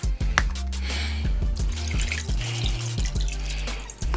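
Tomato juice pours into a Power Pressure Cooker XL with a steady liquid splash and trickle, broken by small clinks and drips, up close.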